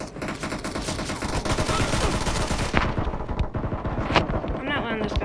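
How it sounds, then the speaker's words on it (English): Dense gunfire from the PUBG Mobile game in team deathmatch: rapid, overlapping automatic bursts crackle continuously, with a few sharper louder shots standing out near the end, alongside faint voice. "I see bullets flying everywhere over here."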